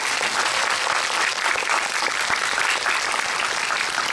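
Steady, dense audience applause at a film screening Q&A for the movie Hunt, a full room clapping continuously and evenly throughout without any talk.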